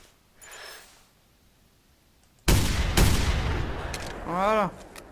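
Rifle shots in the hunting video game The Hunter: two sharp, loud cracks with a short gap between them, a faint voice before them and a rising electronic chirp afterward.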